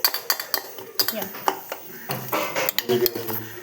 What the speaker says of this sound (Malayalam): ഓറിയോ കേക്ക് നല്ലപോലെ മിക്സാക്കി എടുക്കുന്നുണ്ട്